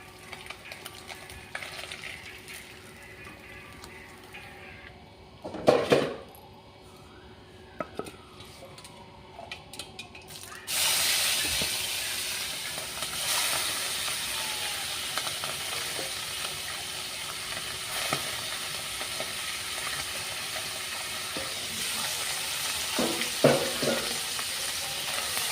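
Tangra or Bhetki fish frying in oil in a pan, a steady close sizzle that swells louder and fuller about halfway through, with a few sharp clinks of a utensil against the pan.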